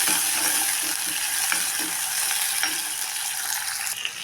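Sliced onions sautéing in a pan for a pond-fish curry, a steady bright sizzle with light scraping stirs now and then.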